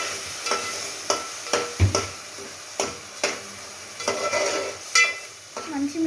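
Salt and turmeric being stirred into a frying fish curry base: a spoon scrapes around the pan in repeated strokes roughly every half second, over a soft oil sizzle, close and clear with no talking.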